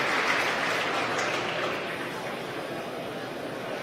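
Crowd cheering and applauding as a SpaceX Dragon cargo capsule deploys into orbit on the CRS-12 resupply mission, a steady broad roar of many distant voices and claps that eases slightly but carries on throughout.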